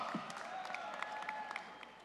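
Graduates at a university commencement ceremony applauding and cheering, a short burst of dense clapping from a large crowd heard at a distance in a big hall.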